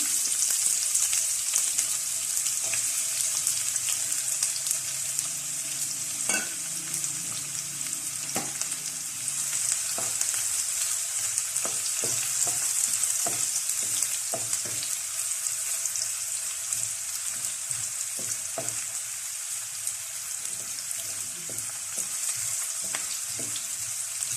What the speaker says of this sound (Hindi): ऑयल हमारा गर्म हो चुका है तो इसके अंदर हम प्याज ऐड करते हैं